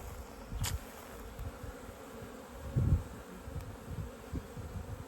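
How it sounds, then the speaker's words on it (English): Bees working around backyard beehives on a warming day: a faint, steady insect buzz with occasional louder passes close by, heard alone under quiet outdoor ambience. "as it gets warmer today, looks like we're going to have more activity on different hives"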